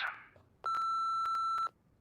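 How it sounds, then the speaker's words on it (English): A single long electronic answering machine beep in a Nancy Drew video game, a steady clear tone lasting about a second, loud and alone after a brief noise. "wait for the beep and leave us a message"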